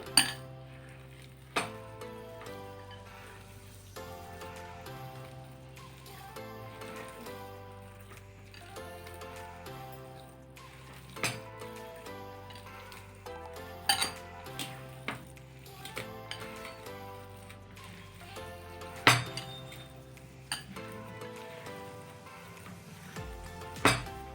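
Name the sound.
mixing ragi flour dough in a bowl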